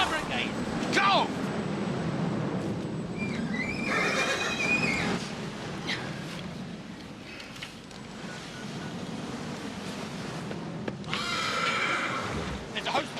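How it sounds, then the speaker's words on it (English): A horse whinnies repeatedly near a fire in a rural farmyard emergency, with shouting and urgent voices over crackling, rumbling background noise and a loud neigh near the end. "Car, take the horse right away!"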